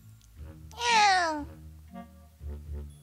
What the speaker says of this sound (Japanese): 猫の鳴き声がしました。